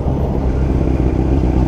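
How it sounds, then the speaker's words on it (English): Motorbikes on a busy street in Zurich produce a loud, close, continuous engine rumble with slight rising and falling revving throughout. "lots of motorbikes in here, that's for sure."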